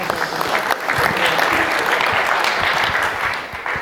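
A conference crowd claps steadily and loudly for a few seconds, the applause fading slightly at the end.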